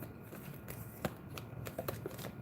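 A deck of tarot cards is shuffled in soft, brief riffles and taps, faint and close, with no voice heard.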